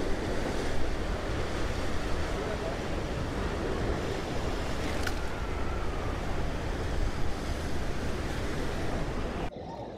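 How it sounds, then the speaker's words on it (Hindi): Loud, continuous roar of ocean waves surging and crashing against coastal rocks at Kanyakumari, with dense broadband surf and wind noise filling the whole stretch. "ये देखो पत्थर में टकराती बहुत तेज़ लहर उठ जाती है।"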